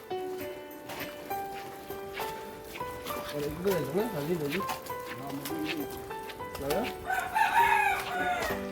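A village rooster crows repeatedly in the morning, its wavering calls rising through lively chatter and voices, with the loudest, nearest crow near the end.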